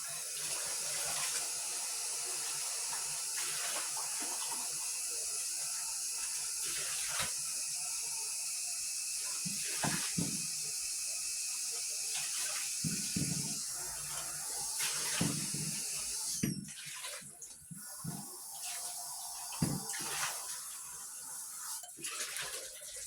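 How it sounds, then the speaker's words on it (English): Three pancakes sizzle on an electric griddle running off a Pecton 600 power bank, a steady hiss and crackle with occasional soft clinks and scrapes, close by and without talk. "I have 3 pancakes cooking on there"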